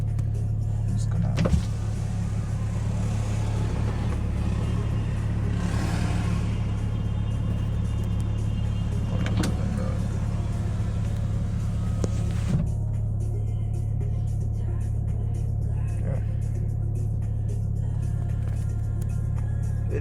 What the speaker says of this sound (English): Idles below 1000 RPM. It is a diesel after all.